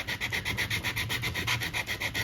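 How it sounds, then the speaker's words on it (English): Rhythmic back-and-forth scraping as paper cardstock is sanded for card making, about a dozen even strokes, close and steady with no talking. "Be careful because you can rip easily when you're sanding."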